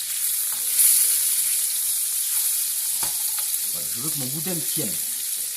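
Boudin sizzling in a hot frying pan as the sausages are turned over, steady close crackle with a few utensil knocks, while someone talks briefly.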